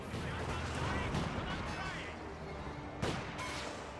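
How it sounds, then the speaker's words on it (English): Anti-tank rounds fire from a penal battalion in the video game Company of Heroes 2, heard as repeated faint booming shots and a sharp crack amid dense battle noise, with a voice talking over it. "Those are anti-tank rounds we're seeing from this penal battalion over here."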